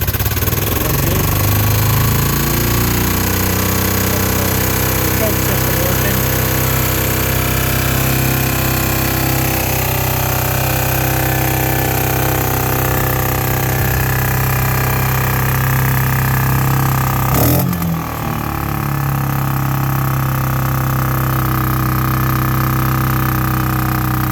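A Renegade ATV engine running loud and close, a steady rumbling drone that rises and shifts in pitch as it revs, with a brief break and change in tone partway through, no talking.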